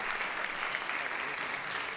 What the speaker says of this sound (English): So a big round of applause for these people.